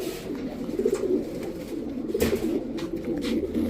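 A pair of cumin-necked, boot-beaked pigeons coo among high-flyer giribaz and racer pigeons, with soft, low throaty coos repeating steadily and close by, alone without talk.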